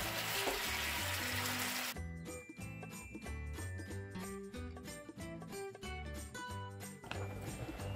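Lamb shanks frying over low heat in a pan give a soft, steady sizzle, heard alone for about two seconds before background music takes over and the faint crackle continues underneath.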